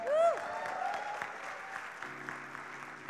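An audience at a worship music conference applauds after a performance. A short whistle or cheer rises at the start, then sustained many-handed clapping continues, with faint held tones underneath.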